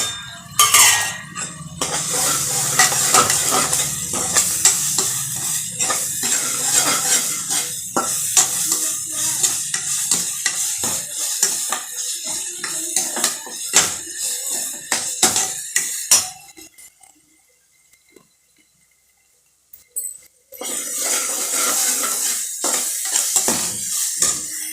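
Onions sauté in a pan as mint and coriander go in, with a steady sizzle, a metal spoon stirring and scraping against the pan, and a brief quiet pause before the frying resumes.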